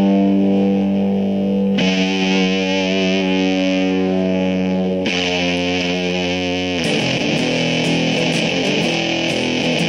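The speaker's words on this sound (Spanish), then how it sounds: "cuando pongo la cápsula del cuello y aumento el fuzz y lo dejo al máximo, logro la textura que siempre he querido en una distorsión" Electric guitar played on its neck pickup through a fuzz pedal at maximum, loud thick saturated sustained chords that change every few seconds, alone without talk.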